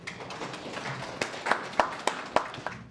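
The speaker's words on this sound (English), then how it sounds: "Give them a round of applause." Sparse, scattered hand claps from an audience at a panel discussion on return to sport: a handful of sharp claps stand out over a low murmur instead of full, sustained applause.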